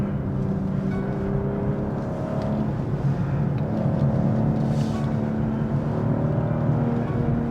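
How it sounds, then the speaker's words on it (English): A 2022 BMW M240i driving downhill, its automatic gearbox downshifting while the engine hum rises under a steady rumble of road and wind noise inside the cabin, with no talk. "you can hear it downshift as it thinks I'm coming to a corner"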